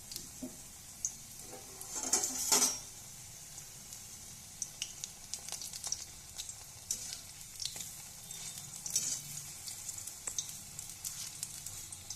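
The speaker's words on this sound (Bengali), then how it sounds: "এরকমভাবে লো ফ্লেমে এটাকে ভেজে নিতে হবে" Bitter gourd leaf fritters frying in oil over a low flame, giving a quiet, steady sizzle with a few sharper crackles and stirring clatter. It is close and faint with no voices.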